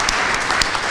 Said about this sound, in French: je demande votre applaudissement